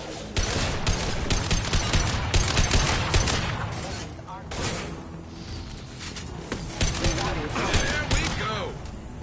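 Mechs firing guns in Mass Effect 2: dense, continuous rapid gunfire with mechanical clatter filling the whole stretch, loud and close, briefly easing midway before resuming, with voices mixed in.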